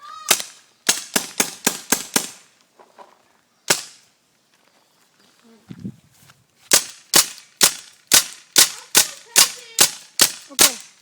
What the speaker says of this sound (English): This is my Vl ORIAN, and we're going to unload it on this Xbox.